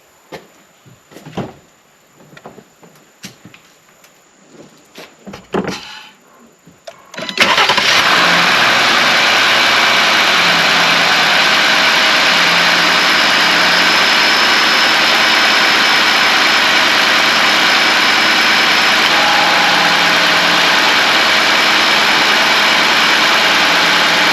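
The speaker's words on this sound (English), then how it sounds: "Then you're going to start the engine, let it run for 10 or 15 seconds." A Jeep Gladiator engine cranks and catches after a few seconds of quiet clicks and handling noises, then settles into a loud, steady idle that runs unbroken for the rest of the span.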